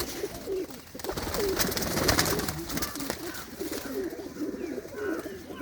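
Repeated soft, throaty coos from pigeons kept in Lambu Mahmoodpur, Punjab, sound close and continuous, the birds' calls overlapping over a busy, rustling background.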